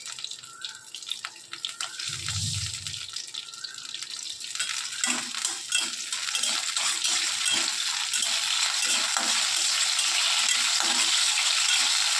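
Green chillies dropped into hot oil in a wok, with a sharp clink at the start and then a loud, steady sizzle and crackle of frying that holds close and continuous with no talking.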